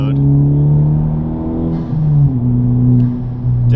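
Honda Civic Type R FL5 fitted with an AWE track exhaust, driving in comfort mode, gives a loud, steady, deep exhaust drone whose pitch dips and settles slightly during cruising.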